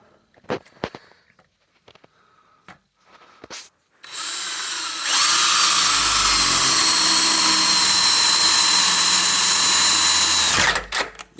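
A power drill driving self-tapping bolts while a GM SUV adjustable rear end link goes in: a few short bursts, then a long loud continuous whine of several seconds, close by, with no talk over it.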